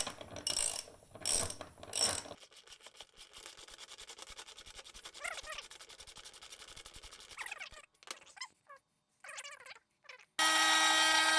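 A CNC milling machine whirs and grinds while cutting a sanding block, with ratcheting, clicking mechanical noise, broken by loud bursts at the start and a harsh hiss at the end.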